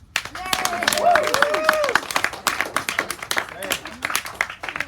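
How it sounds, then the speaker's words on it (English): A small group claps and applauds for a few seconds while a voice speaks over it, with some whoops and cheers mixed in. "round of applause"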